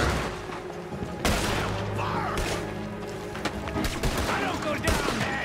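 Gunfire in the Red Dead Redemption 2 western game at the Strawberry gallows: a loud, dense volley of overlapping shots and crashing impacts, close and sustained, with game voices mixed in.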